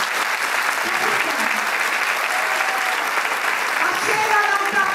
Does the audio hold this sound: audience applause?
yes